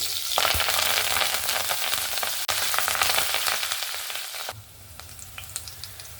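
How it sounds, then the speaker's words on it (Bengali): Green chillies and curry leaves sizzle and crackle in hot oil in a kadai, loud and close with sharp pops, then the frying drops to a quieter hiss near the end. "কাঁচা লঙ্কা আর কারি পাতাটাও সুন্দরভাবে ভাজা হয়ে গেছে"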